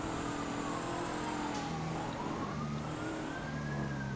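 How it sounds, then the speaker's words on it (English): Police sirens in the GTA 5 roleplay game wail with rising and falling pitch behind a steady car engine and traffic noise, heard continuously at moderate distance. "I hear sirens."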